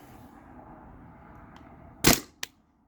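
A Tippmann TPX paintball pistol running on a 12 gram CO2 cartridge fires one sharp, loud, close pop, followed a moment later by a fainter second crack, after a quiet background hiss.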